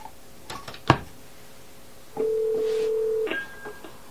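A 1910 Kellogg oak cathedral-top telephone dialing an extension: a few sharp clicks, then a steady tone that holds for about a second before more faint clicks, close and clear with no talking.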